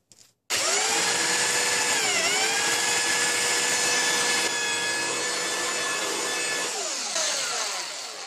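A power saw cuts a metal piece down to size in a homestead metalworking job, starting abruptly and holding a loud, steady whine with a brief dip in pitch as it bites, then slowly trailing off.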